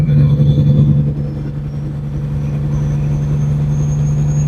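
A semi truck's diesel engine holds a steady low drone at about 1500 RPM while cruising near 38 mph, droning evenly in the cab at high elevation, slightly louder for the first second and then level throughout.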